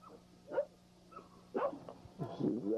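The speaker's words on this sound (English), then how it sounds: "She's a little pup off of Goody's daughter" Young American Pit Bull Terrier puppy gives short whimpers and a few yips and barks in three separate bursts, close by, with quiet gaps between them.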